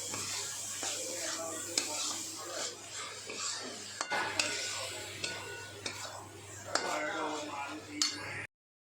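Coconut modak filling being stirred together with yellow food colour in a pan, with steady scraping and stirring strokes punctuated by sharp clinks of a spoon against metal and a faint sizzle underneath, under a low constant hum.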